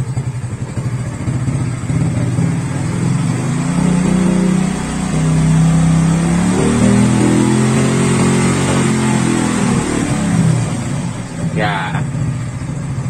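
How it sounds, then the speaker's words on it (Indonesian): A motorcycle engine with a fullwave charging setup and a swapped voltage regulator idles, then revs up and climbs in pitch before settling back, loud and close, with someone talking over it. "Kalau saya tambahkan RPM-nya, ini dalam kondisi mesin idle, ya."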